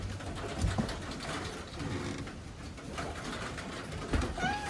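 Pet pigeons kept at home coo softly in quiet bursts nearby, with a few light mechanical clicks and rustles between their calls.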